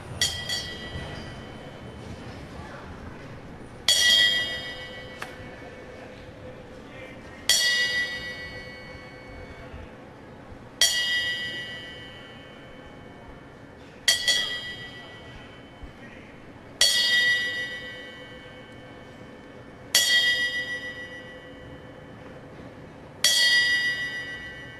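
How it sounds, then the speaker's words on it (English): Ten-bell tribute in a boxing arena for trainer Terry Lawless: a single bell struck at slow, even intervals, each clear metallic ring fading before the next, heard in a hushed hall. "a special tribute was paid here tonight with the traditional 10 bells"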